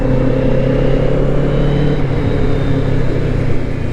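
Kawasaki Z650RS motorcycle engine droning steadily and close through a downshift, a smooth mid-pitched hum with a slight dip in level near the end, no voices.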